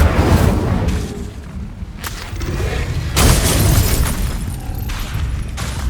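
An Incendio fire spell in Hogwarts Legacy bursts out with booming, crackling blasts and shattering impacts, loud and close, repeating in several surges over about six seconds with no talk.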